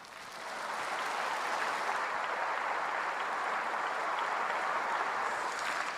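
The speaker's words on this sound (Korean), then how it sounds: "하나님께 박수세요" A church congregation applauds after a pastor is introduced to preach, a dense, steady wash of clapping that swells within the first second and holds loud and even to the end, with no talking over it.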